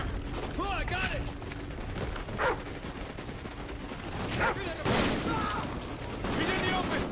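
Covering gunfire in the Call of Duty Ghosts video game: bursts of shots and clattering weapon noise in a chaotic firefight, with voices shouting over the shooting and a dog barking in places.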